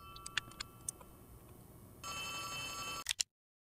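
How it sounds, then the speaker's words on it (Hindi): A telephone in the video game Poppy Playtime Chapter 3 rings with sharp, bright electronic trills, first in scattered bursts, then a sustained ring that cuts off sharply after two final chirps, quiet and without talking. "फोन आ रहा है।"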